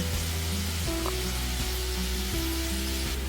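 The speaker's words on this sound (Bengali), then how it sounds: "এবার একটু নেড়ে চেড়ে নিয়ে খোসাগুলো বেশ সুন্দর ভাজা ভাজা হয়েছে" Bottle gourd peels frying in a pan for a Bengali peel paste, giving a steady close sizzle with a faint stirring scrape partway through and no talking.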